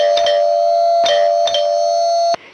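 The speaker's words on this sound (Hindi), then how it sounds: "चलो घंटी बजाते हैं।" A house doorbell chimes loudly and close, a series of bright ringing tones with short repeated strikes, then cuts off abruptly.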